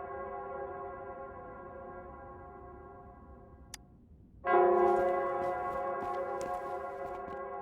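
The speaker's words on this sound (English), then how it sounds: "It's the bell." A church bell rings in the Wuthering Waves video game, a low sustained tone that fades, then a loud new strike blooms and hangs with long shimmering overtones over quiet ambience.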